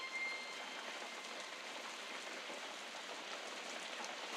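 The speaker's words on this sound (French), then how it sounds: "Encore la pluie qui tombe depuis ce matin à Sceaux." Steady rain falls outdoors at Sceaux, a soft, even hiss of drops that holds without pause, faint and alone with no voices.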